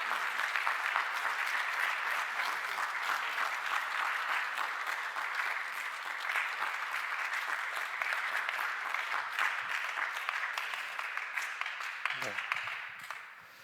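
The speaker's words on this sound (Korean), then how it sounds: "여러분들 2분이 나오실 때 큰 박수 부탁드립니다" Sustained applause from a church congregation at a Sunday young-adults worship service, steady and dense throughout as two women are welcomed forward, easing slightly near the end.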